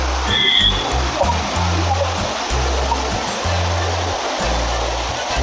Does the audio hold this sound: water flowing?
yes